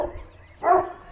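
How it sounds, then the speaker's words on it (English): A farm dog barks once during a solar eclipse, a single short, fairly close woof standing out against quiet outdoor ambience with no talk. "I don't know what he's barking at"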